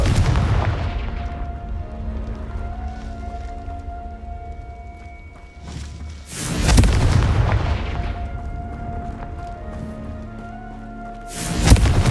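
Confringo fire spell in Hogwarts Legacy, two loud booming blasts a few seconds apart with a crackling, rumbling tail, over a low ambient game background hum.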